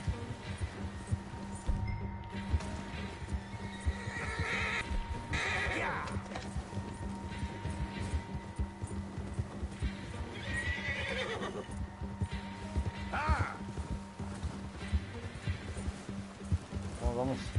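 A horse gallops and neighs in the Western video game Red Dead Redemption 2, with steady hoofbeats and repeated whinnies over busy game ambience, and someone talks throughout.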